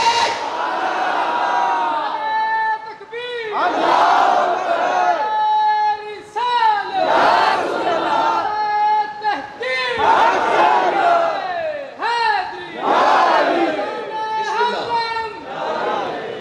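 A large crowd at an Ahle Sunnat Wal Jamaat religious conference in Changa Manga, Pakistan, chants slogans in loud, rhythmic call-and-response bursts that repeat every couple of seconds.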